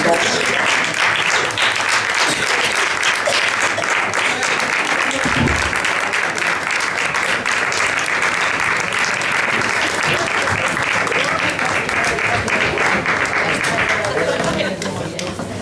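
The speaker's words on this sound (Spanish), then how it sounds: "Os demos un último aplauso" A long, loud round of applause from an audience greets the models on stage at a Valencian traditional dress and hairstyle event, sustained clapping from many hands that thins out at the very end, with some voices mixed in.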